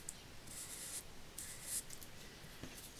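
Marker strokes colouring a paper birthday or Valentine's card design in black, a faint scratchy rubbing repeated in short passes, close and quiet with no talk.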